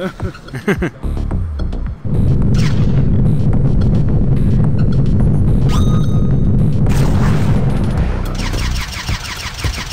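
Ships firing on each other in the space game Drifter on iOS: a dense, sustained rumble of booming blasts and engine roar runs for most of the stretch, with sharper hits at start and end.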